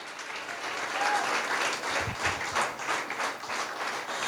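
Applause from a church congregation at a Sunday service, dense steady clapping that fills the room evenly for several seconds without a break.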